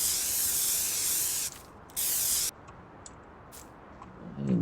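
Aerosol spray can hissing as it marks trees for cutting in Farming Simulator 19, two loud bursts of about a second and a half and half a second, followed by faint ticks and quiet ambience.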